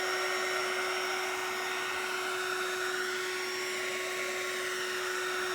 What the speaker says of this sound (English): My heat gun.